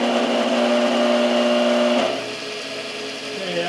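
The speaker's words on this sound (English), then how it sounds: "I'm going to try it 1 belt at a time to see how it goes and see how the motor performs" The motor of a Delta 10-inch table saw, running with no blade fitted, whines steadily and close by, then its pitch drops and it hums more quietly.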